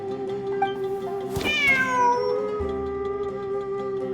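A cat in the video game Genshin Impact gives one clear, close meow that rises and then falls, set against a steady background tone.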